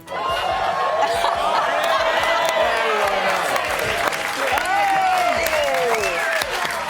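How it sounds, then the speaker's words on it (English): A television studio audience applauds and cheers, a loud full crowd roar of clapping with whoops and rising shouts filling seven seconds, with laughter mixed in. "I'm clapping myself"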